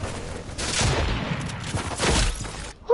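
A sniper shot lands during a build fight in a video game, heard as a sharp burst followed by a crackling, shattering rumble of gunfire and debris that carries on for a couple of seconds and then cuts off abruptly.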